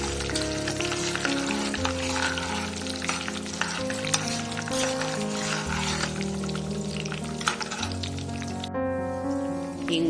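Peanuts fry steadily on a low flame with a dense, continuous crackling sizzle, stirred now and then, while making mango chitranna in a home kitchen.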